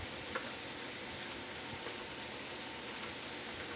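Shrimp sauté in a pan with a steady, soft sizzle that holds evenly throughout, fairly faint, with no voices.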